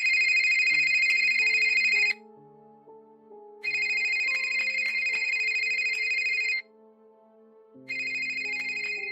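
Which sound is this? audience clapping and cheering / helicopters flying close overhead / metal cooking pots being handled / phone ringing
phone ringing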